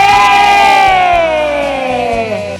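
A crowd at a community event shouts a long, loud collective cheer in unison for a community developer, the voices sliding downward together with rhythmic thumping underneath, close and dominant.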